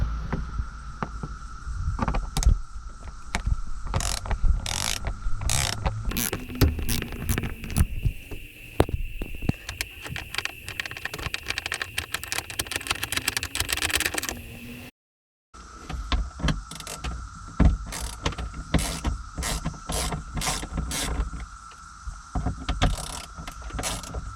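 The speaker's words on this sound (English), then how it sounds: "We're going to start removing the Torx bolts on the front corners of the hardtop and then the back bracket." A ratchet driving a T40 Torx bit loosens the hardtop bolts on a Lotus Elise, giving rapid repeated clicking and ratcheting bursts close by, with a brief silent break partway through.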